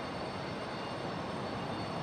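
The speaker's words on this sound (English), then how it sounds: "2675 coming in from Houston. This is a 737-9." A Boeing 737-9 jet airliner arriving from Houston at Raleigh-Durham International in stormy weather, its engines a steady, broad roar with no voices.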